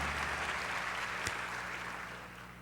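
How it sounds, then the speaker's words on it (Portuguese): A church congregation claps together in a fairly quiet, even wash of applause that slowly fades, with one sharp knock partway through. "mas quero dar um aplauso"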